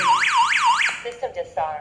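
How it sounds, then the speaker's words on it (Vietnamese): A DIGOO DG-HAMA home security alarm siren blares with a loud, close, rising-and-falling electronic wail for about a second, then cuts off into a few short electronic beeps. "Ấn này thì nó sẽ báo động"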